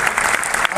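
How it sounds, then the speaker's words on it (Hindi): Loud, dense applause from an audience cheering on Special Olympics Bharat athletes headed to compete in Germany, a steady broadband clatter of many hands filling the short moment without a break. "आइए एक बार जोरदार तालियों के साथ अपने खिलाड़ियों का"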